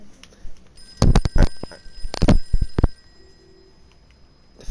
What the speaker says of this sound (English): The phone is ringing, son.